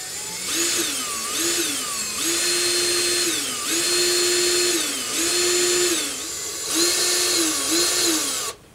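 A power drill whines in repeated bursts drilling through a Star Wars Snow Speeder model kit part, revving up and holding steady, then easing off between pushes, close and loud throughout with no talking.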